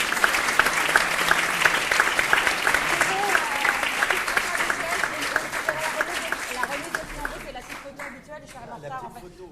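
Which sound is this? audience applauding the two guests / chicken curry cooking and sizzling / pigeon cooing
audience applauding the two guests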